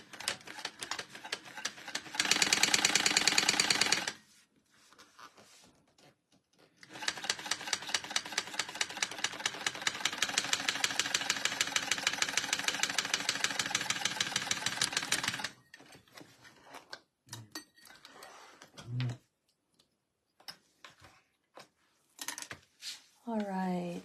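A sewing machine top stitches a crossbody bag in two runs of rapid, even needle clatter, a short burst then a longer stretch, with quiet handling noises between and after.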